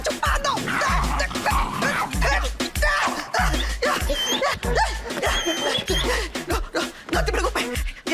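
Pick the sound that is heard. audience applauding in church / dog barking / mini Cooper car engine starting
dog barking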